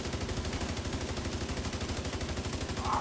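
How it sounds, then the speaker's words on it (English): Rapid sustained automatic gunfire in The Division 2 video game, a steady loud stream of evenly spaced shots with no pause, with no talk over it. "Start shooting, shoot his backpack."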